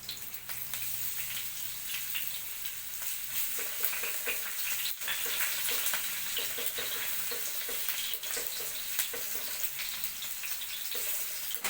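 Green chillies and garlic frying in hot oil in a pan, a continuous faint crackling sizzle with light spattering pops throughout, no voices.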